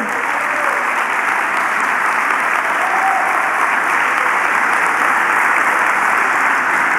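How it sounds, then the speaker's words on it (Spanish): A church congregation claps for the Lord in a long, even, unbroken wash of applause, loud and steady throughout. "Dale palmas al Señor"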